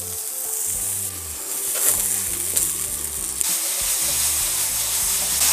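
Champignon mushrooms with salt, pepper, white wine and ghee sizzle steadily on a grill. The hiss and crackle of frying is continuous and close, swells a little midway, and no one speaks.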